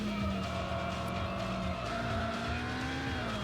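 Engine roar of a race car in the Need for Speed 3 Hot Pursuit video game, a steady loud tone that rises in pitch with a sustained screech like tyres skidding under braking, alone without talk.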